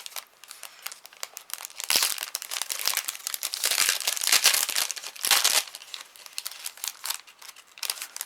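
Gift wrapping paper from a discount store's gift-wrap aisle crinkles and rustles close by in uneven bursts, swelling into dense crumpling in the middle and thinning to scattered crackles, with no talking.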